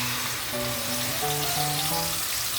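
A dense, steady sizzle of ground paste for fish curry frying in hot oil, loud and close, with faint tonal hum in the background.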